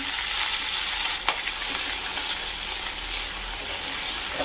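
Bay leaves, crushed garlic and green chilli frying in hot oil with cumin, a close, loud, steady sizzle with a brief stir near the middle.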